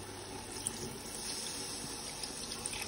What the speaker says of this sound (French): Maintenant, je rajoute l'eau bouillon.